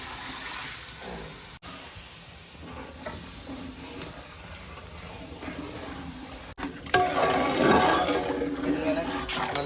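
Kudampuli tamarind water pours into a simmering fish curry, a soft watery hiss that turns louder and fuller toward the end as the liquid hits the pan.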